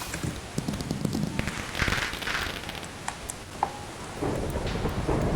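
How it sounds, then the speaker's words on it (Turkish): Lightning strikes with rumbling thunder in Minecraft Egg Wars, booming bursts over a steady wash of rain, loud and close, with a sharp crack near the middle. "Adama yıldırım çarptırdım"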